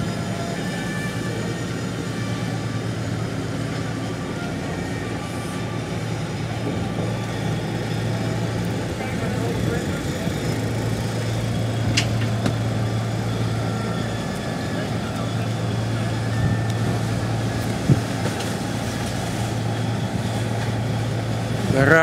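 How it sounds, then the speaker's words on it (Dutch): Tugboat engine lashed alongside the engineless schooner brig Tres Hombres, towing her out of Rotterdam: a steady low diesel drone with a constant hum, continuous and fairly close, with faint voices in the background. "De sleepboot is langzij gebonden, want we hebben zelf geen motor."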